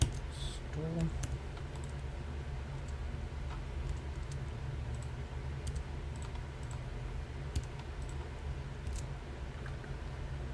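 Someone types a quiz question on a computer keyboard, producing a steady run of soft, close key clicks over about ten seconds with a faint background hum.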